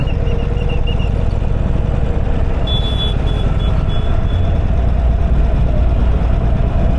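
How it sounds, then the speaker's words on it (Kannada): A Porsche 911 Turbo S idles at Penukonda Hills with a steady, loud, low engine rumble close by, while faint intermittent beeps sound in the background. "ಪೋರ್ಷ ನೈನ್ ಅಲೆವೆನ್ ಟರ್ಬೋ ಎಸ್ ಇದು"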